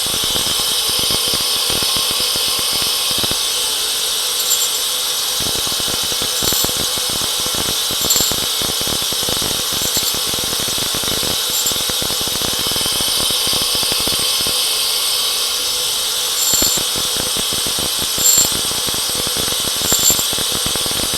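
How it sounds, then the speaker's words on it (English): Grinding machine working a tungsten chrome alloy tap, giving a loud, constant high-pitched whine with intermittent scraping contact as the wheel is fed in and out, close by and without talk. "The intermittent grinding is the shaky old fool working the machine."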